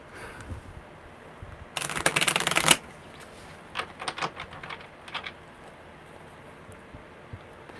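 A deck of tarot cards riffled in one loud, dense burst lasting about a second, followed by a few softer scattered flicks and taps in a quiet room.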